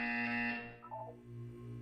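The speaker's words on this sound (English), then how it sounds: "When you hear the buzzer, look down at the floor." Test-chamber buzzer from the Portal 2 video game, a steady electronic tone lasting about half a second before cutting off, followed by a brief lower chime-like tone over a sustained hum.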